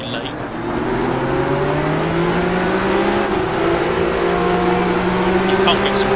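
Race car engine in the rFactor 2 racing game, a steady loud drone with gradually rising pitch as it accelerates, continuous and close throughout, with someone talking over it.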